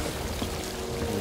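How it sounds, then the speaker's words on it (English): Water floods steadily into a damaged ship's hull in the pirate game Sea of Thieves, a continuous rushing, pouring wash that holds at an even level for the whole moment. "Taking on a lot of water."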